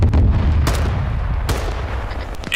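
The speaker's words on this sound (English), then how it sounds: "What direction is BTR? To the north, firing right now." Heavy cannon fire from a BTR armored vehicle in a military video game, loud booming blasts with sharp reports at about 0.7 and 1.5 seconds over a dense, rumbling battlefield roar, with no talk.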